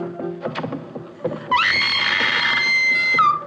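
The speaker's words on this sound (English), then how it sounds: "Do I hear a lady screaming?" A woman's high, sustained scream rings out in a 1953 adventure comedy film scene, loud and close for nearly two seconds, following brief muffled voices and thumps.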